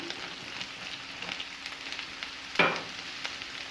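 Chicken and flour cook in a pan with a soft, steady sizzle, broken by one sharp scrape of a spoon stirring the mixture, fairly quiet and close with no talking.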